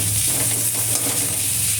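Spices fry in a pan with turmeric, salt and chili powder, making a loud, close, steady sizzle with faint stirring scrapes underneath.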